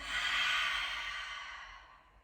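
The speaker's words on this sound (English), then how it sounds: "Maybe exhale out through the mouth." A long, airy exhale out through the mouth during a yoga flow, close and breathy, swelling quickly and then tapering off slowly over about two seconds.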